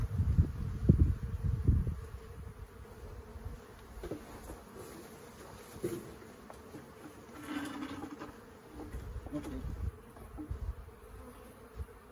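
Bees buzzing around an open beehive during a hive inspection, a close, fluctuating hum with swells and dips as insects fly near, over some low rustling and handling noise, no voices.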